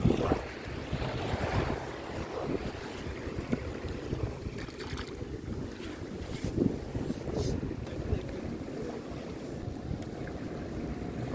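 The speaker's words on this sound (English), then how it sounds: "Ocean." Ocean waves at a beach under heavy wind noise, a continuous rough wash and rumble with a few louder surges, close to the microphone, with no speech.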